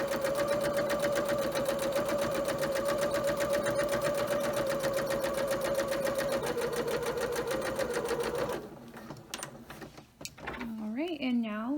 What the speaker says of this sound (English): And just sew the rest